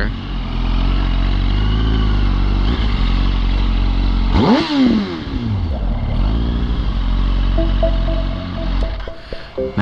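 A KTM motorcycle passes on the road close by, its engine note rising and sweeping past over a constant loud drone of the recording bike's engine and wind rumble, with clatter near the end.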